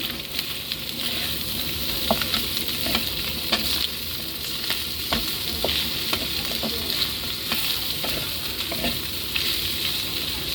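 Bicol Express with onion and green and red chilies fries in a pan while being stirred, a steady close sizzle broken by frequent scraping and clinking of the spoon.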